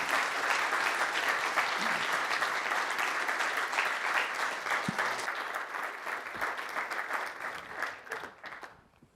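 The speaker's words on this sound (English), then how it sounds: "Let's all give a warm round of applause for Professor Hitz." An audience applauds after a lecture, a dense sustained round of clapping from many hands that carries on for several seconds before thinning and fading out at the end.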